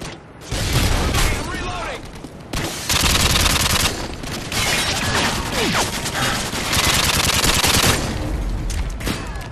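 Automated sentry gun in a video game fires sustained bursts, loud close rapid gunfire in long rattling stretches broken by short pauses, with a voice faintly under the shots.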